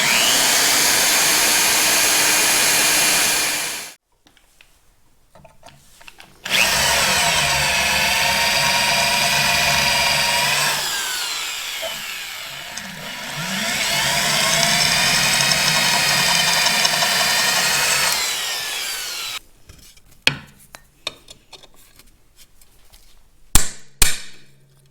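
Drilling out rivets on Caterpillar D2 belting: a loud, steady power-drill whine in long bursts with pauses between, ending in scattered clanks and knocks of metal handling.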